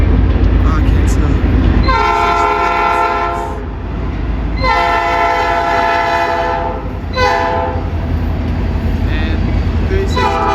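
Norfolk Southern locomotive 6316 passing through Colfax, North Carolina sounds its multi-chime horn in three loud blasts, the middle one longest, over the heavy rumble of the moving train.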